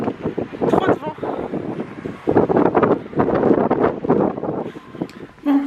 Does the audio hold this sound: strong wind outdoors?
yes